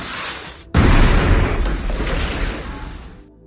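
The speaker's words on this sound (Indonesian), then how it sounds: "akibat ledakan itu Nick dan istrinya terluka parah" A loud explosion in an action film, a sudden heavy boom that bursts in after a brief quiet moment and then rolls off into a long, fading rumble with scattered debris.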